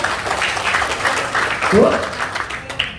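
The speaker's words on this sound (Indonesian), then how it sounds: "Oke, tepuk tangan buat siapa?" A seminar audience breaks into applause, moderately loud mixed clapping with voices and cheering overlapping through the short burst.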